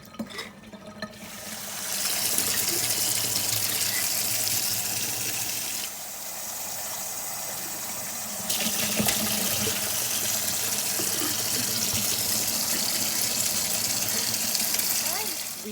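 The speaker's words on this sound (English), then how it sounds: "All right, we're just gonna rinse and dump them out." Water runs steadily from a kitchen tap into the sink while sprouted beans are rinsed and drained, a continuous splashing gush that shifts in intensity as the flow and container move.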